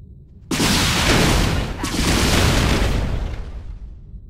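A StarCraft II battle in which cloaked Terran Banshees fire area-effect missiles at Marines. A sudden, loud barrage of blasts and rapid gunfire starts and keeps roaring, then fades slightly toward the end.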